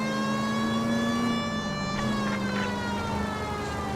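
A police car siren in the video game L.A. Noire wails loud and steady with a rising and falling pitch, briefly dipping midway, with no talk over it.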